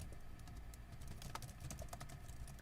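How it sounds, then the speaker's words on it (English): Computer keyboard typing, a faint, quick run of irregular key clicks over a steady background hum, with no talking. "everyone's going to be listening on the keyboard to try to figure out what I'm typing"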